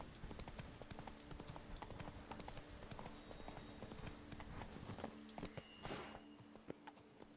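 Horse hooves clip-clop steadily in The Witcher 3 as the mount trots along, a continuous rhythmic patter of footfalls with faint background game sound.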